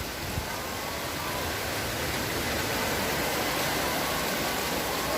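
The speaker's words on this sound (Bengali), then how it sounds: "দেখুন বেশ অনেক জোরে বৃষ্টি," Heavy storm rain pours down steadily at a poultry farm, a dense, continuous hiss of downpour that stays loud and unbroken throughout, with no voices.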